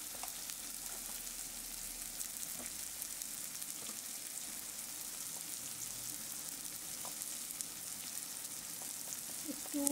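Steady, quiet sizzle of spices frying in oil in a pan for potol dorma, a continuous close hiss with faint scattered pops and no talking.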